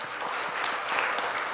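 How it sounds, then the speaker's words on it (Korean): A church congregation claps in birthday congratulation, a short, full burst of even applause heard alone at moderate distance. "우리 나라하고 하은이 생일 축하 박수"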